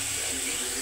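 A small splash of water is poured into a pan of mustard, onion and green chili spice mix, giving a brief, close, continuous rushing pour.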